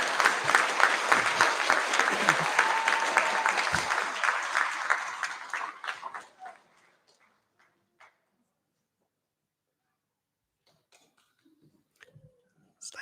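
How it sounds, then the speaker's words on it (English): Applause from a school prize-giving audience for a senior student receiving the Sedgton Cup, a dense sustained clapping for about six seconds that fades out, followed by near silence with a few faint scattered sounds. "Another round of applause for Amelia"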